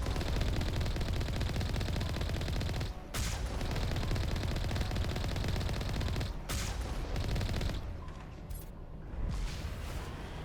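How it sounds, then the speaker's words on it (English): Gunfire from the video game Mass Effect, including sniper fire: dense, continuous loud bursts of shooting with a few brief gaps and sharp cracks, forming a chaotic battle din with no speech. "Who is firing at me? Oh, look at that sniper."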